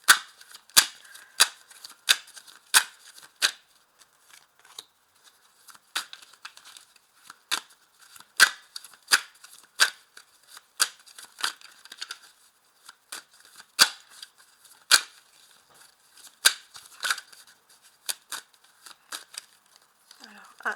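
Tarot de Marseille cards being handled and laid down, giving a series of sharp, crisp snaps and flicks at irregular intervals across the whole stretch, close and fairly clear, with soft rustling between them.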